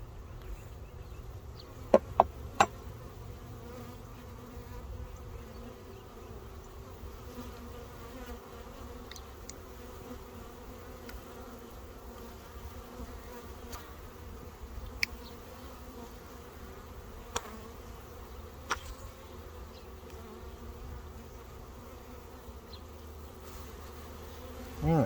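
Honeybees around an open hive give a faint, steady low hum throughout, with scattered soft clicks and taps from frame handling, and no talking.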